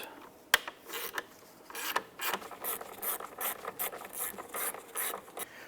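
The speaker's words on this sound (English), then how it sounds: "Now I'm going to go ahead and use a T15 Torx bit." A T15 Torx bit turns out the mirror motor screws on a 2011-2019 Ford Fiesta, giving close, quiet ratcheting rasps and scrapes in short repeated bursts with a sharp click near the start and no talk.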